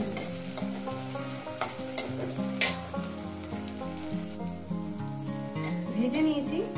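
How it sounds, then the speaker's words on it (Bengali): Tomato frying in a pan for spiced egg curry, a steady sizzle with stirring scrapes over background music, no talking. "টমেটোটাকেও আমি 2-3 মিনিট এইভাবে ভেজে নেব"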